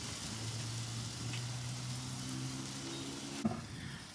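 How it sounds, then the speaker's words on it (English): Ribeye steak and vegetables sizzle quietly on a covered grill, a soft continuous hiss with a faint low hum underneath and one brief clack near the end, with no voices. "You can hear it sizzling."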